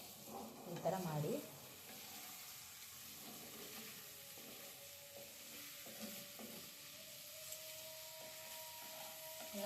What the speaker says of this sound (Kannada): ಇನ್ನೊಂದು 2 ನಿಮಿಷ ಫ್ರೈ ಆಗುತ್ತೆ ನೋಡಿ